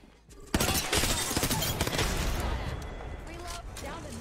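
A frag grenade goes off in the video game Apex Legends, a sudden loud blast followed by a few seconds of crackling, rumbling debris that slowly fades.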